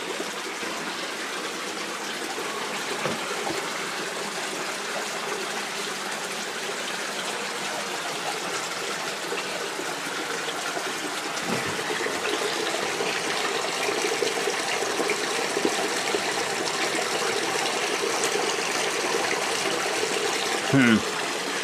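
River water draining and trickling away inside a cave, a continuous gurgling wash with steady moderate loudness and a few brief thumps, with no talk.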